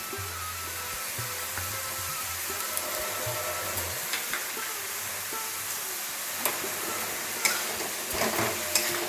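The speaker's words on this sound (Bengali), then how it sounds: "এবার আমি ভেজে রাখা গোবিন্দভোগ চালটা দিয়ে দিচ্ছি" Fried Gobindobhog rice being stirred into spiced banana flower in a pan, a steady soft sizzle and scraping with occasional light clinks toward the end, no talking.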